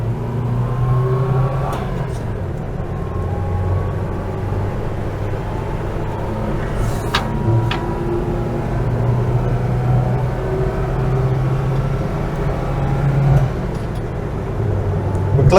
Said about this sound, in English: there's so much road and wind noise, but it's still feeling quite loud